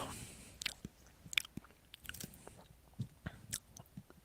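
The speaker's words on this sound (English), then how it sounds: "Can you hear me chewing?" Close, quiet chewing with soft crunches and moist bites in an uneven rhythm, no speech.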